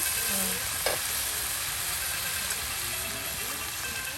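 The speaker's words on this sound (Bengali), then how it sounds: "ডিমগুলো এখন দেখুন কত সুন্দর করে মশলার সাথে এই যে ভেজে নেওয়া হচ্ছে, আবার ভালো করে কষানো হচ্ছে।" Eggs being fried and stirred with spice paste for an egg bhuna with taro stolons, a continuous close sizzle and hiss with occasional scrapes, with some talk faintly present.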